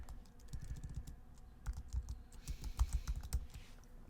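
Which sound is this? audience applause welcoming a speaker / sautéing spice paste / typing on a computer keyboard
typing on a computer keyboard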